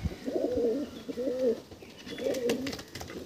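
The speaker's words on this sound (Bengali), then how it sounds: "আন্ধ্রা পায়রা থাকছে এগুলো।" Andhra pigeons in a loft give soft, throaty coos in two or three close rolling bursts, clear and near over a faint background hiss.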